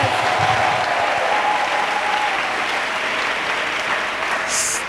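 Church congregation clapping in sustained applause and acclaiming Jesus Christ at a worship service, a steady dense wash of hands filling the room for the whole stretch, with a brief cheer rising near the end.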